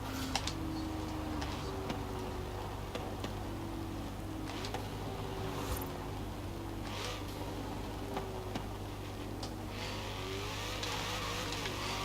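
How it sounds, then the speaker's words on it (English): Chevrolet Camaro ZL1 1LE exhaust in Forza Horizon 4, tuned past 1000 horsepower, revs and roars continuously with scattered ticks and pops, loud and steady throughout with no talking. "Now the exhaust note is still pretty nice. It does pop and bang a lot"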